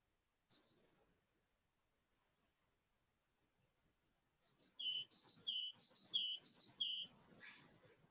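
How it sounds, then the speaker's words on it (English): A bird sings outdoors: one brief pair of high chirps, a long pause, then a rapid run of alternating high whistled notes, moderately close and clear over faint background noise. "That's a nice song,"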